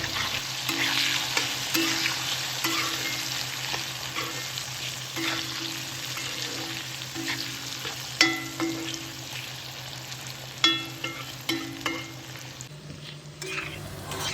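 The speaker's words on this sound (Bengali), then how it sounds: "আলুর টুকরোগুলো মিনিট খানেক ভেজে নিয়ে" Potato pieces with salt and turmeric fry in oil, a constant close sizzle with a repeating low hum and frequent sharp scrapes and knocks of a spatula stirring the pan.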